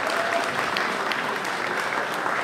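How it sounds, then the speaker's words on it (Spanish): An audience at a panel talk on women in the digital industry claps in steady, sustained applause that fills the room for a couple of seconds. "Un fuerte aplauso también, por favor."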